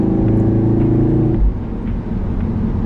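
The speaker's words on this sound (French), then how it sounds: "un moteur assez rageur dans les tours." Cupra Formentor with a 2.0 TSI petrol engine, heard from inside as a loud, low droning roar climbing in pitch, then the note drops off as the revs fall back.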